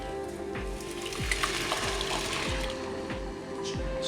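Tomatoes for a tomato relish sizzle and crackle steadily in a hot pan, a continuous close frying hiss with soft bubbling and a regular low thump repeating under it, with no talking.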